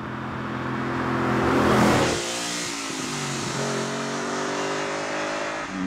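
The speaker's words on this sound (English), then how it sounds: "Who needs to listen to the radio when you have that V8, 6 or 8 inches behind your head?" The V8 of a Lamborghini Urraco, mounted just behind the seats, revs up loudly, peaks, then settles into a steady rumbling idle with smaller throttle blips.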